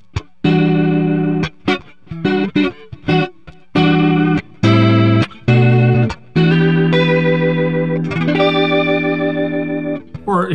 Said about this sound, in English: you get this more of that Leslie sort of sound